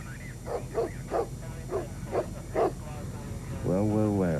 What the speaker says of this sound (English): Dog's making a lot of noise.